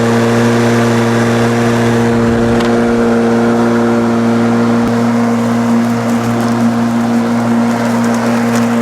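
A Sun Joe 40-volt ion 16LM cordless lawn mower, reconditioned and with a knocking fault, runs steadily at close range with a constant motor whine and no talk.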